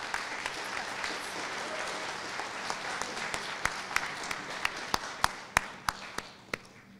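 An audience at a high school distinguished alumni ceremony applauds the honorees, a broad wash of clapping with individual close claps growing sharper and more prominent toward the end.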